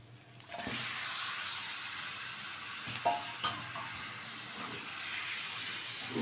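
Washed chicken dropped into a hot pan with spices, a sudden loud steady sizzle and hiss that holds throughout, with a couple of faint knocks midway.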